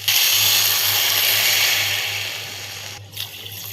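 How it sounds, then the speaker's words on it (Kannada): Water is poured into sugar to make syrup for badam puri, a steady close splashing stream that fades after about three seconds and ends with a few light clinks. "ಒಂದು ಅರ್ಧ ಬಟ್ಲ ನೀರು ಹಾಕಿ"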